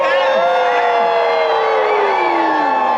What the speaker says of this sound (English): Ladies and gentlemen, you may cheer.